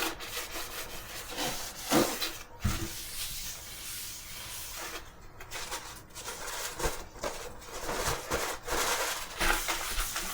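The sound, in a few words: gently polishing a wooden sewing treadle table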